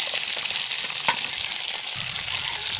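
Green beans sizzle and fry steadily in a pan with split green chilies, a continuous close hiss with a few stirring clicks and no talking.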